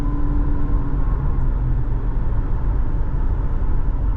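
A car accelerates while being road-tested after a defective axle was repaired. It gives a steady, loud, low rumble of engine and road noise with no break, heard from inside the cabin.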